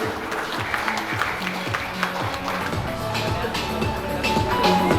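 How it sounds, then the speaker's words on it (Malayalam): Guests clap at a first birthday celebration just before the cake cutting, a moderate patter of small-group applause that carries on steadily under voices and some background tones. "നല്ലൊരു കൈയടി കൊടുക്കാം."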